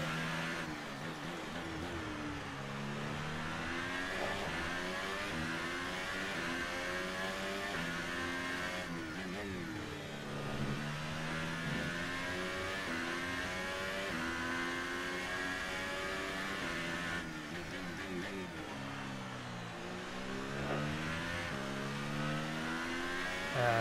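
An F1 race car in the F1 2018 game on the Canada circuit screams through repeated gear changes, its engine pitch climbing in long sweeps, then dropping and rising again, loud and steady with no voices.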